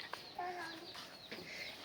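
A village hen gives a few quiet, short clucks at close range in a rural yard, with soft background noise and no talking.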